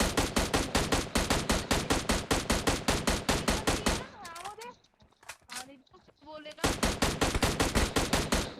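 Automatic weapon spray in the mobile game PUBG Mobile near a hillside city: rapid, evenly spaced loud gunshot bursts, a pause where a voice speaks, then another sustained burst.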